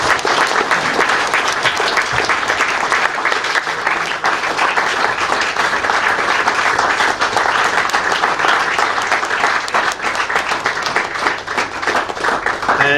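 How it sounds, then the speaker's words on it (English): Dense, sustained applause from a large audience fills the room, loud and unbroken for the whole stretch. "Give them a round of applause, please."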